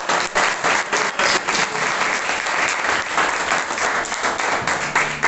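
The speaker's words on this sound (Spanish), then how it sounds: "Denle un aplauso al Señor." A church congregation applauds loudly and continuously, many hands clapping in a dense, close wash of sound with slight rhythmic pulsing throughout.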